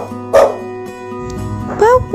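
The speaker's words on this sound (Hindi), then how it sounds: "कुतो करे थो भौ भौ भौ" Two loud dog barks spaced apart, close by, with music and a voice in the background.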